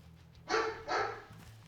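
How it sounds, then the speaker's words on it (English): A dog barks twice in the Way of the Hunter hunting video game, two loud, close, broad woofs about half a second apart over a low background hum, with no talking. "Hopefully my dog barking doesn't spook them."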